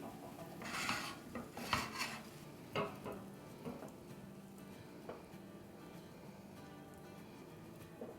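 Spiced potato chaat is scooped out of a pan. Soft spoon scrapes and light clinks come in a few bursts early on, then fade to quiet, with no talking.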